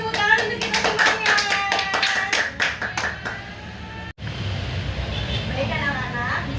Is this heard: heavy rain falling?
no